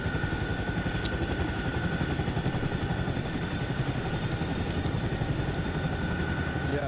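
A helicopter in the Arma Reforger milsim game runs as a loud, steady rotor-and-engine drone that fills the whole stretch without pause.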